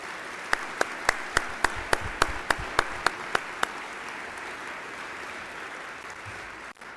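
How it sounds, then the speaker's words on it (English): Audience applause at a school Veterans Day ceremony, steady clapping from a crowd with a few sharp, evenly spaced claps standing out close by before the sound fades. "please join me in a round of applause for our St. Thomas Academy faculty, staff,"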